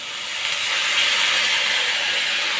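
Water poured into a hot cooking pot on a gas stove sets off a loud, steady hiss of sizzling steam that swells in the first half-second and then holds evenly, with no talking.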